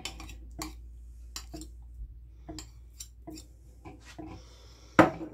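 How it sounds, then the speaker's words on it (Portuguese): Utensils stirring fish stroganoff ingredients such as mustard and salt in a dish, a quiet series of sparse clinks and scrapes ending with one sharper metallic knock, no speech. "Vamos misturar tudo muito bem."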